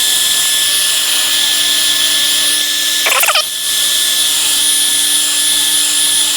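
A heat gun blows hot air onto the outer bezel of a Samsung S22 phone, making a steady, loud whooshing hum with a fixed whine, briefly broken by a short clatter near the middle.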